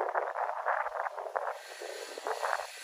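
A neighbor's tile cutter slicing tile at a renovation, heard from a distance as a steady, faint high-pitched grinding whine that pulses slightly and never stops.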